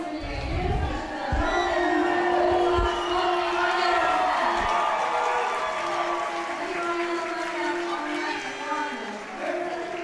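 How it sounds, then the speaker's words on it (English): A Hungarian crowd at a judo contest roars in a big indoor hall, a loud swelling cheer with shouts and whoops that slowly fades, with low thumps early on. "here we got another jump up from the Hungarian crowd"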